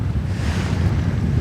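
Big sea waves and gusting wind during a women's match race at a sailing nations cup, a continuous broad rush of surf and wind buffeting the microphone, loud and steady with no voices.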